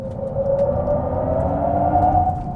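From a Hyundai Ioniq 5 N comes a synthetic supersonic jet-like sound: a continuous droning whine with a low rumble beneath, held steady and close for a couple of seconds.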